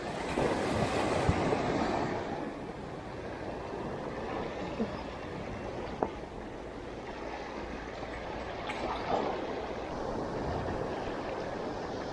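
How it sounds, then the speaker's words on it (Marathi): Strong sea waves on the Mumbai shore, a broad continuous wash of surf and rushing water with wind buffeting the microphone, swelling louder at the start and then rolling steadily. "मला वाटलं नव्हतं लाटा एवढ्या जोरात असतील इकडे"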